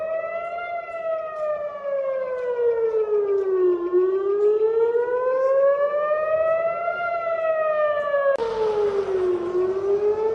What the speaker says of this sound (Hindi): तेल अवीव में लगातार सायरन्स बज रही है